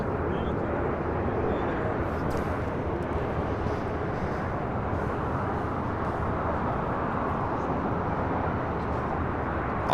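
Philippine Airlines Boeing 777-300ER at LAX airport, a steady broadband jet engine rumble that holds at an even level throughout, like a nearby airliner at idle.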